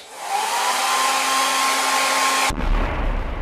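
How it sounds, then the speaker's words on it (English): A blow dryer drying off leftover Goo Gone adhesive remover runs as a loud, steady whirring blast, then cuts off abruptly near the end, leaving a low rumble. "next we'll come in with a blow dryer just to evaporate the Goo Gone in case there's any left on there"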